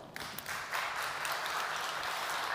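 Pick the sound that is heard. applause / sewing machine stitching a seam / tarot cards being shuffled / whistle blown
applause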